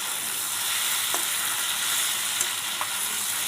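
Potatoes frying in hot oil in a pan for an Assamese-style local chicken dish, a continuous even sizzle with occasional scrapes of stirring, no voices.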